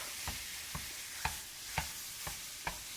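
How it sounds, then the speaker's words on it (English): A pound of lean ground beef cooks in a hot skillet with a steady, close sizzle, broken every half second or so by sharp scraping stirs of a utensil against the pan. "I started heating up my skillet here for my hamburger"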